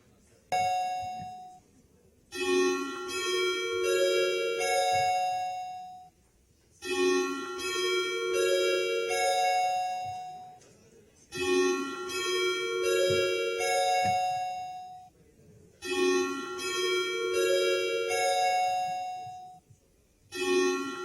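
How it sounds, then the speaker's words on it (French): Electronic chime bells ring out in a municipal council chamber, repeating melodic ding-dong sequences in four bursts separated by short pauses, clear and resonant. "Est-ce qu'on peut faire sonner les cloches,"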